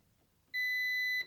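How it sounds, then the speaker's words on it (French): A multimeter gives a single steady continuity beep of under a second while testing a fuse, a clean electronic tone that sounds alone against quiet room noise and ends abruptly. "Et donc le but c'est d'entendre donc un bip."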